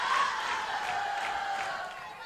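A home crowd at a high school volleyball match cheers in a steady, fairly loud roar that fades slightly, with scattered whoops and claps, and a voice talks underneath.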